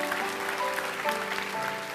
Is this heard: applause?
yes